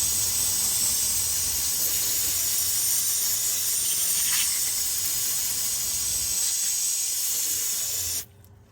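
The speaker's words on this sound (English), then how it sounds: "I'm gonna clean this with some brake cleaner real quick." Aerosol brake cleaner sprayed in a long, steady hissing burst onto a Jeep Cherokee engine part during timing kit work, close and loud for about eight seconds before cutting off abruptly.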